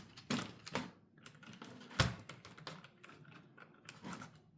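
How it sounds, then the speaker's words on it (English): Phillips screwdriver turning the small bolts on a Godox V1 camera flash, with close ratcheting clicks, scrapes and handling taps in an irregular rhythm, quiet and without talk. "We need a Phillips screwdriver"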